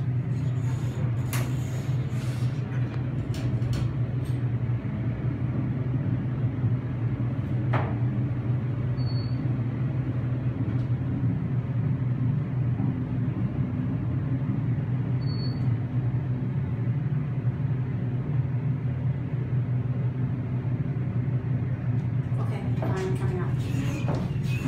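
Amtech hydraulic elevator at the Kaiser Grantville North Building in San Diego, California running: a steady low hum and rumble that stays constant throughout, with faint clicks and a couple of brief high tones over it.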